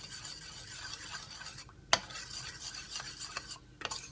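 A utensil stirs tamarind pickling liquid for homemade pickled shellfish, giving soft, steady swishing scrapes with a few sharper clinks against the bowl, close and fairly quiet, with no talk.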